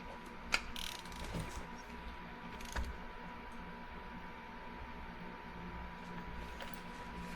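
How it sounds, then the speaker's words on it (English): A digital torque wrench tightening the oil drain plug of a 2025 Can-Am Defender Limited HD-10 to 22 foot-pounds: a few faint, sparse ratcheting clicks over a quiet workshop background. "You're going to take your torque wrench, torque it down to 22 foot-pounds."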